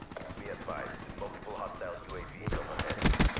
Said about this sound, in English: I shot him in the head.